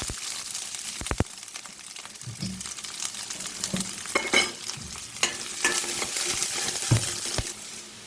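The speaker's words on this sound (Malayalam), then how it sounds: "പിന്നെ നമുക്ക് സവാള ചേർത്ത് കൊടുക്കാം" Onions and chillies fry in a pan for a moringa leaf dal curry, a steady close sizzle broken by sharp metallic clinks and scrapes of a spoon stirring.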